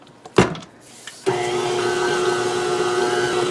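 A hand mixer whirs into cookie dough with a steady, close electric motor whine after a brief knock and a short pause.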